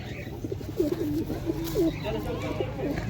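Home-raised pigeons at an outdoor pigeon market give several soft, rolling coos in quick succession, close by, with people's voices in the background.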